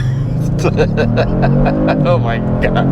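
A 2022 Kia Stinger GT2 with an 8-speed automatic holds a loud, close launch-control rev, its engine droning at a steady high pitch. A person exclaims over it.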